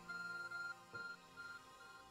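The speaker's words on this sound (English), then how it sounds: "Your ARC phone is beeping." An ARC phone beeping in Pokemon Legends: Arceus, a faint, repeating high electronic chirp in short pulses over quiet game background music.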